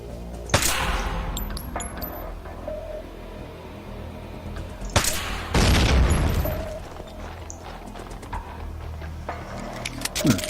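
A video-game explosion in Max Payne 2 bursts out in a deep, loud boom that rumbles for about a second, followed by scattered sharp bangs and clatter amid game ambience.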